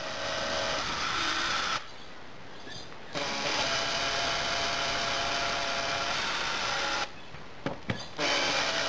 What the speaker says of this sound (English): I've got a cordless drill here, and that's how I disassemble it